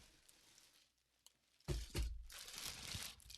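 A plastic bag holding Star Wars figures crinkles and crackles as it is opened, with a few sharp crackles followed by continuous close rustling.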